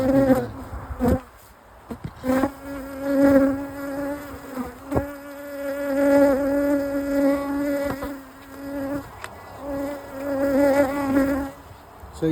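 Honeybees buzz steadily around frames of honey being lifted into a super during a honey harvest, a close, continuous drone that swells and dips with a few brief knocks and handling sounds.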